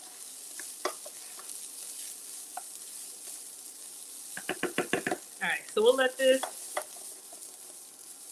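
Shrimp fried rice sizzles in a hot pan while a utensil clacks and scrapes through it in a quick burst of stirring, with someone talking briefly over the frying.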